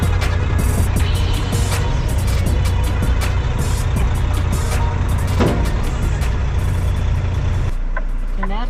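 A semi-truck with a trailer rumbles loudly and steadily nearby as it pulls away, its engine drone continuous with faint ticking and clicks, then cuts to a quieter tone near the end.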